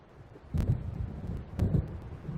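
Low rumbling thunder from an approaching storm in the video game Alan Wake, rolling in two heavy swells over a steady windy, rainy background, with no voices.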